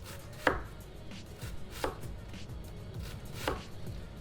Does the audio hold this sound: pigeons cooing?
no